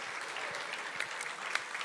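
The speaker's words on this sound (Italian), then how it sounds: "Applauso." Audience applause at an Italian technology and sustainability event, a steady dense patter of many hands clapping at moderate level throughout, with no voices over it.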